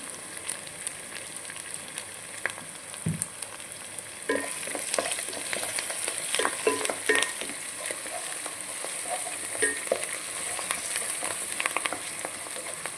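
Turmeric fries in a pan with a soft, steady sizzle that grows busier partway through, as scattered scraping and clinking stirs come close and then fade.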